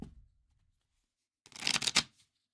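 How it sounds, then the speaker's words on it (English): A deck of cards is shuffled once before a game, one quick riffle lasting about half a second that ends in a sharp flutter and snap. It is close and clear, and silence comes before it. "Going to do one more quick shuffle."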